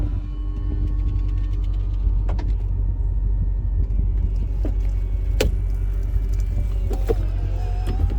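A Maserati GranTurismo convertible's power soft top closing, a steady low mechanical hum with intermittent clicks and latching thunks over about eight seconds, close by with no voices.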